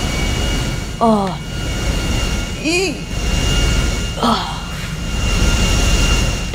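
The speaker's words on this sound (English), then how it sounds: "now let's just taxi the freaking plane." A stolen airplane taxis in the GTA Online video game, its engine giving a steady broadband drone throughout, with a few short startled exclamations over it.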